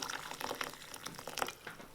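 Boiling water is poured over quinoa for a tabbouleh-style salad, a short run of faint trickling and dripping splashes, close and quiet, with no voices.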